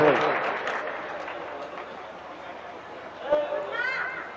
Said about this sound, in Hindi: एक बार जोरदार तालियां बजा के इजाजत दें